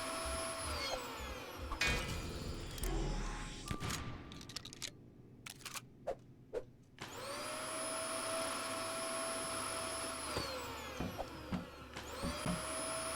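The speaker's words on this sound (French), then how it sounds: "Puissant l'aspirateur, eh oui." Whirring suction drone from a powerful vacuum cleaner in a video game, loud and continuous at first. It breaks off into a run of sharp bursts and clicks, then returns as a rising whine and sustained hum.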